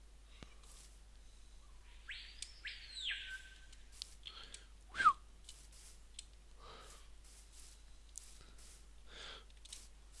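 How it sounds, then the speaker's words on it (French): Scattered chirpy bird calls, synthetic and game-like, come in short separate bursts over a quiet background, with clicks and a sharper squeak midway. "Il y a un drôle d'oiseau hein, dans les parages."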